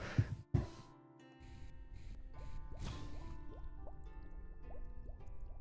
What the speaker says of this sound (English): I'm gonna give it exactly 1 stir